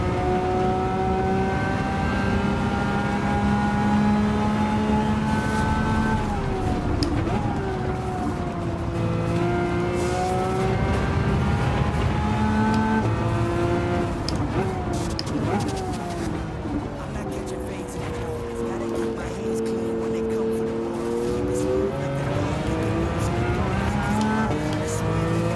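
A Honda NSX race car in Gran Turismo 7 passes, its engine droning as a steady harmonic whine that rises and falls with gear changes and throttle, loud and continuous alongside another car's engine, with faint talk at times.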